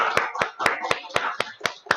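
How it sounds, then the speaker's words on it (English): Hands clap in a steady, even rhythm at a Toastmasters club meeting in Singapore, about eight crisp claps in two seconds, close and fairly loud. "Give ourselves a round of applause"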